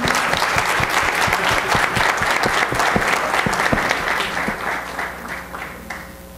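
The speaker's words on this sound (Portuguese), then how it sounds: "Vamos aplaudir o Alexandre." Audience applause at a public hearing on inclusion and accessibility, steady and full, with many sharp claps standing out near the front before the clapping thins and fades.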